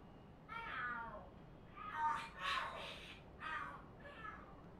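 Cats fighting and screaming in the video game Lost Judgment, a run of harsh, wavering yowls rising and falling over about five seconds, moderately loud and heard alone without talk.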